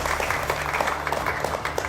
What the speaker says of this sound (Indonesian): Luar biasa tepuknya.